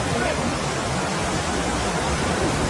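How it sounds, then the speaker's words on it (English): Kalu waterfall at Malshej Ghat in the monsoon, a dense, constant roar of falling water filling the whole clip, loud and close with no breaks. "Beautiful flow of water here,"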